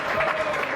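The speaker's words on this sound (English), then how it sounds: "Let's get some clapping going for my man." An audience applauds a comedian taking the stage, a short burst of close, steady clapping filling the room.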